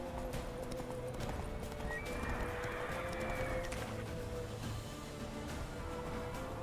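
A horse gallops with a steady clatter of hooves and whinnies in The Witcher 3, set in a dense, continuous game soundscape of wind and ambience.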